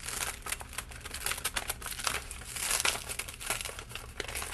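Sheet of paper being accordion folded into three parts, loud close crinkling and crackling that rises and falls in uneven bursts throughout, with no talk.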